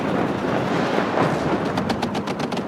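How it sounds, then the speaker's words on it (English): Artillery and gunfire in the wargame WARNO, a dense continuous rumble of distant blasts with a rapid burst of sharp repeated shots toward the end, loud and steady throughout. "Artillery helping out this push."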